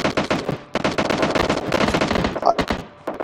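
Rapid automatic gunfire in PUBG, the video game, dense bursts of shots that crackle continuously for a few seconds with brief gaps, loud and close.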